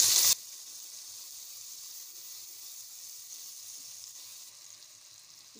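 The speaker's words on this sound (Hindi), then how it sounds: "बस हम मसाले की 2-3 मिनट अच्छी तरह भुनाई करेंगे" Salt, red chilli powder and turmeric fry in a pan with a faint, steady hiss that follows a brief loud burst at the start.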